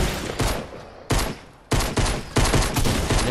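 Pistol shots in Fortnite fired in quick, loud volleys, each burst separated by a short gap, close and punchy with rattling decays, no voices over them.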